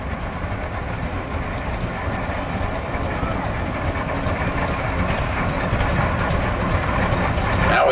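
A 1921 Rumely OilPull G2040 antique tractor rolls by in an antique machinery show parade, its heavy low engine rumble steady and continuous throughout, growing slightly louder toward the end, with crowd noise mixed in.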